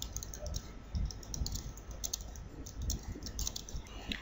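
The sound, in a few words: typing a phrase on a computer keyboard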